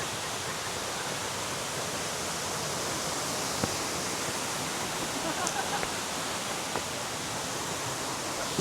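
The abandoned Tat Sae waterfall gives a steady, broad hiss of falling water, fairly loud and unbroken, with a few faint clicks and knocks scattered over it.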